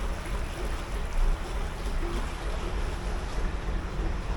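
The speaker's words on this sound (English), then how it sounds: "I'm in gear now, look, driving forward." A narrowboat engine runs in gear while the boat sits grounded at a lock on the Saltley Cut canal in Birmingham, a steady low rumble under wind buffeting and churning water, with no talk.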